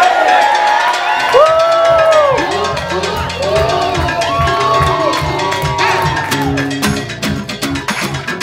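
Wedding guests at The Campus on Lake Austin erupt in loud, sustained cheering, whoops and screams from a crowd after the couple jumps the broom, with music or singing carrying through the noise.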